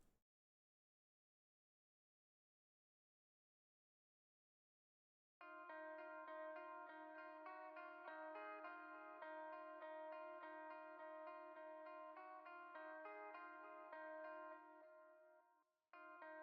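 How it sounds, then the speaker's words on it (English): After several seconds of silence, a trap-beat melody built in FL Studio enters with sustained, shimmering synth tones washed in reverb. It plays steadily and loud, then fades out, and a short return comes at the very end. "So I'm going to add some reverb."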